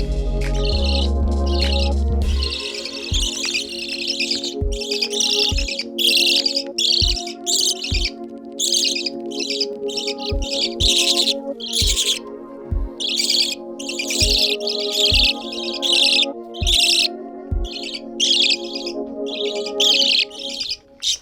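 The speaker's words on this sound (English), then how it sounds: "they start chirping loudly and calling for me to feed them" Hand-fed baby budgies chirping loudly for food, a dense, insistent chorus of high shrill calls close by, with a rhythmic low tapping underneath and a brief low rumble at the start.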